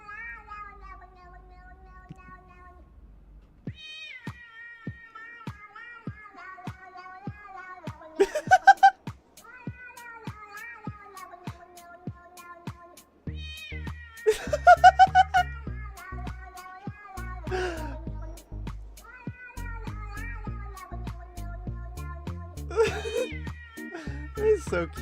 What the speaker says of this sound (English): It's a kitty on TikTok.